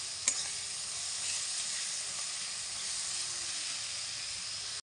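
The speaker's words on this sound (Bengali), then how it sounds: "এখন আমি ভালো করে মশলাটা ভেজে নেব, তারপরে আমি আলুটা দেব।" Spice paste of turmeric, salt and chili powder fries in a pan with a soft, even hiss and sizzle. It is quiet and continuous, with one faint clink near the start.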